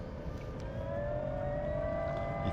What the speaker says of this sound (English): You can probably hear the sound of the engine change there.